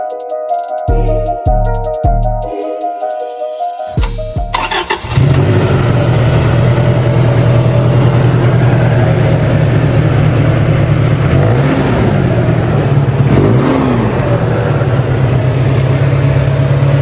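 A wrecked 1997 Toyota Tacoma fires up after a few cranking bursts and settles into a loud, steady idle close by, with two brief revs rising above it later on.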